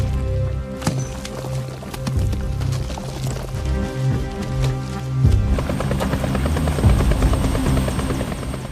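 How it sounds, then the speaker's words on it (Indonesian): Helicopter in flight, a loud steady rotor drone and rhythmic chop with a heavy low rumble, close and continuous, from a film action scene with no talk. "Setelah itu, Tiago naik ke helikopter bersama Elena menuju lokasi terakhir keberadaan Ancares."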